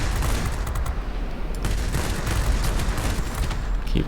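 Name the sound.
machine gun fire from World of Warplanes MiG-9 video game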